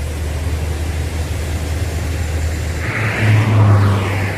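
Loaded trucks queue and idle beside a sugar mill, a steady low engine rumble that swells slightly as one moves nearby, with a constant background hiss and no talk.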